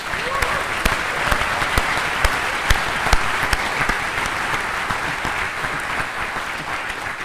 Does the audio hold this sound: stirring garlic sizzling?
no